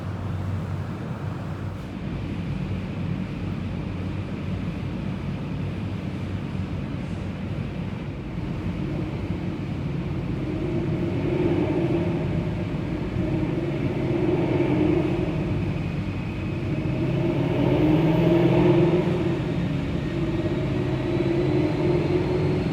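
Boss 302 V8 on an engine dyno, roaring steadily for over twenty seconds as it climbs in pitch toward 7,800 RPM and grows louder near the end, heard alone.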